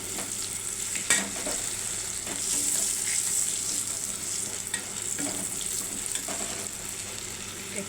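Dried red chili dropped into hot oil while prawns are cooked: a bright, crackling sizzle with bursts of spitting and stirring clatter, near and constant, with no voices.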